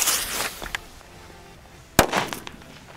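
K1204 firecrackers set off outdoors for a New Year test: a loud, sharp bang at the start with crackling debris and a short pop, then a second powerful close blast followed by scattered crackles.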